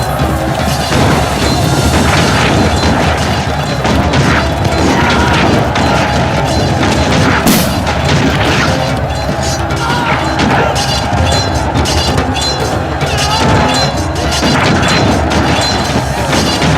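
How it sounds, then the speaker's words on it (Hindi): Artillery shells exploding in a battle, as in the 1757 Battle of Plassey: continuous dense crashes and booms, loud and chaotic across the whole stretch. "उन्होंने इन तीनों को डराने के लिए उनके खेमों के बाहर गोलों के धमाके शुरू कर दिए"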